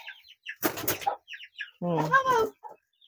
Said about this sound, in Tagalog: Ang aming mga manok.